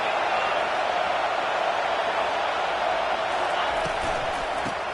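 A stadium crowd roars in a college football video game on a third down, with a dense, loud, continuous roar that fills the whole clip without letup.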